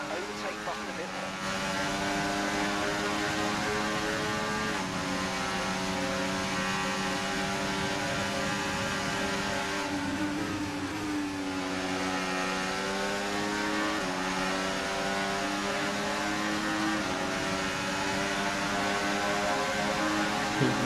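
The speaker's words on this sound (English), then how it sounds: "Verstappen gets past Norris, well that was Piastri, and Leclerc is looking to try" F1 2024 video game race cars jostling for position during an overtake, a steady, loud high-revving engine whine that shifts pitch as cars pass, with commentary speaking over it throughout.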